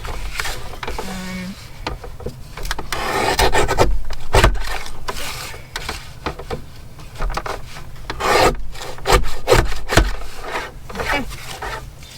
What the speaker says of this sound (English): because this is so highly textured, I'm going to use my guillotine